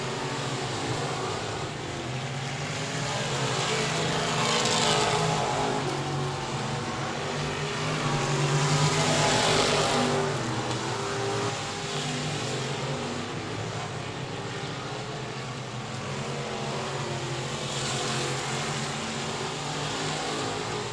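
Dirt track race cars at 67 Speedway of Texarkana, with engines roaring steadily, swelling and fading as cars pass, loud and unbroken throughout.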